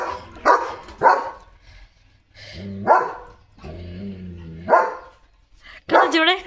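A German Shepherd gives several loud, close barks spaced about a second apart, with lower drawn-out whining, growl-like vocal sounds between them in a quiet room.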